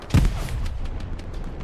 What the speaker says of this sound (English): Lots of grenades being thrown from each team over here.